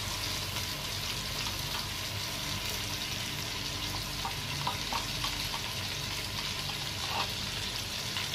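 Chicken karahi cooking in ghee gives a steady, close sizzle and frying hiss that runs throughout, with a few faint clinks or splashes as yogurt goes into the pan. No one speaks.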